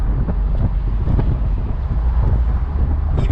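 Loud buffeting wind roars continuously around an open-top 2006 Audi TT Roadster 1.8T turbo on the move with the top down, mixed with low engine and road rumble and no voices.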